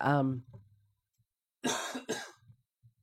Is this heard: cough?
yes